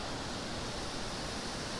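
Continuous broadband rush of low water flowing over a small waterfall, steady and fairly soft throughout with no speech.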